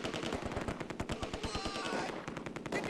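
Rapid machine gun bursts crack across a street in the Close Combat II wargame, a tight string of repeated shots at moderate distance, fairly quiet and continuous with short gaps between bursts.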